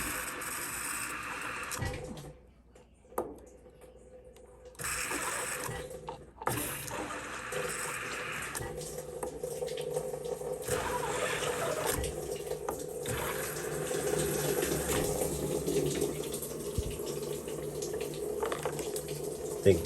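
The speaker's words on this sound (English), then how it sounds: "That's the water valve." Water valve on a Whirlpool/Maytag top-load washer letting water rush into the tub, a steady hiss and splash that stops briefly and then resumes, growing fuller and louder over the clip.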